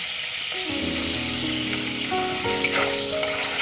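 Bay leaf, cinnamon stick and two cardamom pods sizzle loudly in chicken oil, a steady close frying hiss with light crackles and a few faint clinks, no voices.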